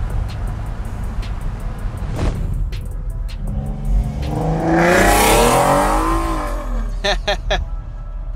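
A 1968 Ford Mustang with a 289 V8 driving on the road, engine rumbling low and loud, then revving up in a rising whoosh mid-way before settling, with a few clicks and taps near the end.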